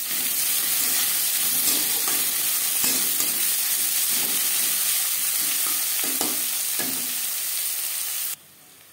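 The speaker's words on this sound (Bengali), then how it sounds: "পেঁয়াজ ভাজা হয়ে এসছে।" Two chopped onions fry in oil with five-spice seeds while matar ghugni is being cooked, making a continuous, close sizzle with spatula strokes scraping the pan at irregular intervals; no voices are heard before it cuts off near the end.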